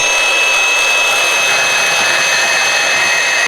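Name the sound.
portable bandsaw cutting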